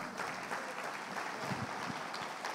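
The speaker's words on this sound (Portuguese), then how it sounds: "Quem pode aplaudir ao Senhor?" A church congregation claps together during a worship service, a dense, steady patter of many hands that holds evenly from start to finish with no voices over it.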